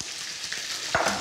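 Chicken fries in a little oil in a pan, a short close sizzle with a brief crackling burst near the end.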